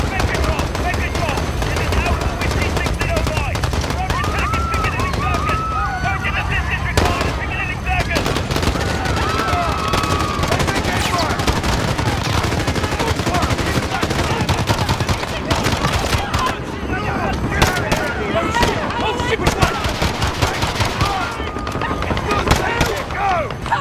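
Dense automatic and rapid gunfire from the Modern Warfare video game, with loud sustained bursts, overlapping shots and occasional booms running throughout, mixed with in-game voices.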